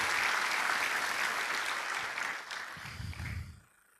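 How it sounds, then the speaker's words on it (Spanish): Loud congregation applause at a church service fills most of the clip, a dense steady wash of clapping that thins and then cuts off near the end. "Fuerte ese aplauso para el Señor, vamos."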